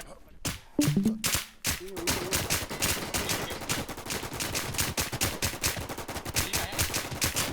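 Rapid automatic gunfire from the online shooter game The Crown Classic. A few loud single shots come first, then a dense, sustained burst that continues to the end, close and loud, with a brief voice over the early shots.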